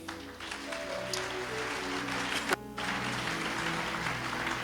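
A church congregation clapping during a worship service, a steady, moderately loud wash of applause that continues throughout with one sharp accent partway through.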